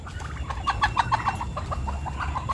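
Farm chickens cluck in quick, squabbling bursts close by, a busy series of sharp calls over a low background rumble, with no talking.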